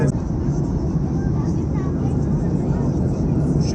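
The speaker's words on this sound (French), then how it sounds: "Coucher de soleil en avion." A passenger airplane cabin in flight on a trip to Cuba gives a constant broadband roar from engines and airflow, steady and close throughout, with faint murmuring voices mixed in.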